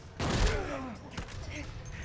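Gunshots in Silent Hill 2: a single heavy, close shot followed by a second, fainter report about a second later, with a man's speech mixed in between.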